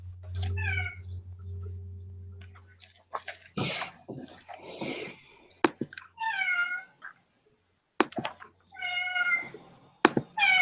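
A cat meows indoors: about three or four distinct, fairly close meows spaced out in a quiet room, with low mechanical hum early on and a few knocks and short voices between them.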